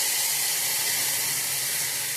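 Milk poured onto roasted poha in a hot pan makes a loud, close, steady hissing sizzle that holds evenly from start to finish.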